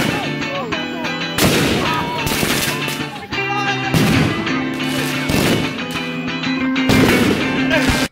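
Fourth of July fireworks show explosions, a dense run of loud booms and crackling bursts in quick succession, with music playing underneath throughout.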